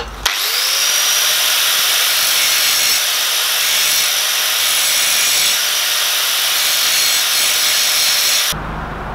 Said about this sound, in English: I'm just going to notch this pipe just a little bit